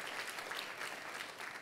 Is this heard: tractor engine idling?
no